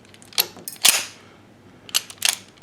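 A Browning Hi-Power-style pistol is worked by hand to eject a chambered round, giving several sharp metallic clacks of the slide with a brief rattle, close and crisp, in two quick clusters with quiet between.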